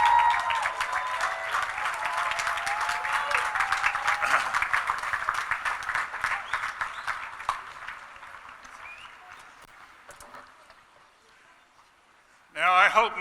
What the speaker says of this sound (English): I'd like to ask all of you to stand and give them an Elon cheer